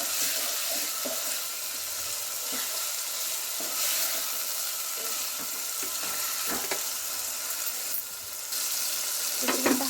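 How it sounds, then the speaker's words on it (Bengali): Chicken pieces fry in oil in a pan with salt while being stirred, for a chicken dish with green peas; a steady close sizzle runs throughout, broken by scattered scrapes and clicks of the stirring utensil, with no talking. "চিকেনটা এইভাবে তেলের মধ্যে ভাজা ভাজা হয়ে যাবে নাড়তে নাড়তে।"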